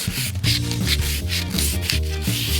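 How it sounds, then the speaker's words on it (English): Edges of a rattan sword are worked by hand with 220-grit sandpaper, making loud, close, rhythmic rasping strokes, about three per second, with no voices. "I just got this piece of 220 sandpaper."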